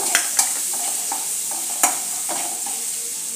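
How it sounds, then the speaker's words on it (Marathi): Finely chopped garlic frying in hot oil in a pan, a bright steady sizzle with a few sharp taps of a spoon against the pan rising above it, close and continuous, with no voices. "बारीक चॉप केलेला लसूण. चांगला तळून घेऊया"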